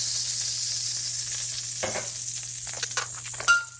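Ghee made from pork fat sizzles loudly and steadily in a hot pan, with a few soft stirring or scraping clicks near the end.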